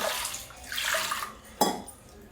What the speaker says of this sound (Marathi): मसूर डाळ धुवून घेते